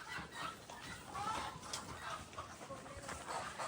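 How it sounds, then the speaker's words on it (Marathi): Village chickens clucking and calling at a rural market where fowl are sold, several birds overlapping in busy bursts with a steady outdoor murmur beneath. "भाई गावठी कोंबडी विकतात वाटतं"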